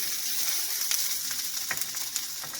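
Mushrooms and vegetables frying in hot oil for a stir fry, giving a steady close sizzle with scattered crackles and pops throughout.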